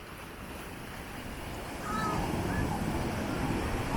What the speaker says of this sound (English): These waves are a little crazy.